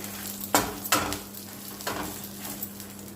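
Dried red chillies fry in a kadai for a coconut spice powder, hissing steadily while a spatula scrapes through them in a few distinct strokes, close and fairly loud.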